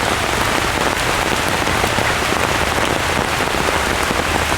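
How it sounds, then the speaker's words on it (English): Heavy tropical downpour in a botanical garden, a dense steady hiss of rain pounding surfaces, loud and unbroken with no voices. "This is a good old tropical downpour, isn't it?"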